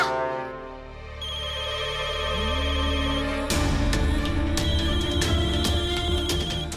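Telephone ringtone ringing loudly and continuously in a home, a repeating electronic melody with bright tonal beeps that grows fuller partway through.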